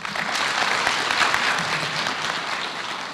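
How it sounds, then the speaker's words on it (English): A roomful of people applauds at a maternal mortality report launch, a loud continuous wash of clapping that stays steady throughout. "Let's all applaud our effort in getting here."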